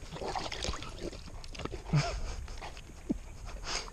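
A dog pants heavily and rhythmically close by outdoors, quick breathy huffs repeating throughout at a fairly soft level.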